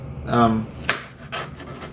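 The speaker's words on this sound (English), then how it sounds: "we're gonna chop it into little strips" A knife chops lettuce into strips on a cutting board, a couple of crisp cuts after a brief scraping sound, close and fairly quiet.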